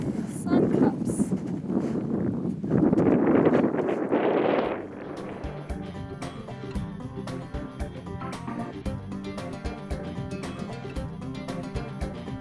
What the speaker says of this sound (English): before the wind completely drowned out my voice